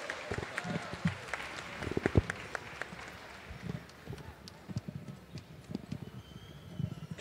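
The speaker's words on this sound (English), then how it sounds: "give her a big round of applause" At the Gathering of Nations powwow, an audience gives scattered, fairly faint clapping for a performer, with irregular claps and crowd noise mixed under voices talking.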